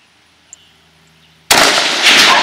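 A single loud crack from a Savage Model 10 .223 rifle fired at a target 200 yards away breaks a quiet outdoor stillness, followed by a sustained ringing echo.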